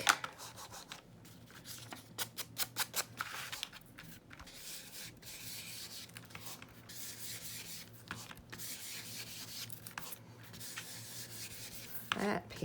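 Ink rubbed onto old paper tags for junk journaling, a series of close, soft dry scrubbing and brushing strokes in irregular bursts, with quieter pauses between passes.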